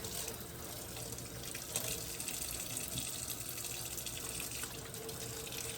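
Tap water runs steadily into a sink while stuffed baby octopus is rinsed out, a continuous faint gushing stream with no pauses.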